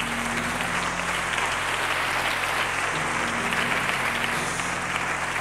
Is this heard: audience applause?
yes